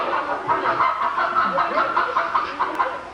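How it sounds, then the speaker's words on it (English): A loose chicken clucks and cackles repeatedly in a busy indoor scene while people scramble to catch it, the bird's calls close and fairly loud over steady background commotion. "We were just trying to catch the chicken."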